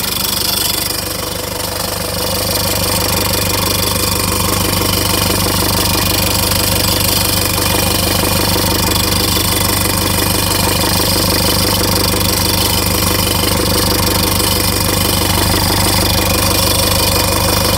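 An idling engine with a new alternator runs at steady loudness, a dense rhythmic metallic knock and ping ticking through the drone the whole time, close and continuous.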